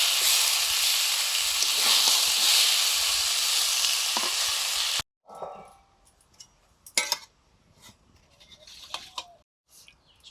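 Mustard oil sizzles loudly and steadily in a pan before amudi fish go in to fry, a continuous close hiss that cuts off abruptly, followed by sparse clattering of utensils.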